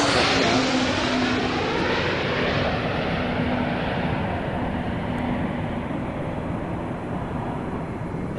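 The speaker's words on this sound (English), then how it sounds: "Landing gear will be locked down in place at 31 feet in altitude. Main gear touchdown." Airplane on landing approach to main gear touchdown, a loud steady roar of aircraft engines that slowly fades and dulls over several seconds, with no talking.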